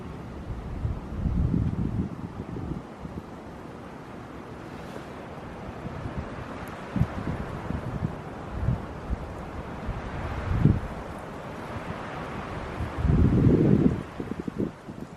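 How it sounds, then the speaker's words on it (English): Wind gusting through forest trees, a soft steady rush with stronger swells near the start, around ten seconds and again near thirteen seconds, plus faint rustling; no talking. "the wind coming through these trees, like if you just take a second to listen to it, it's pretty cool"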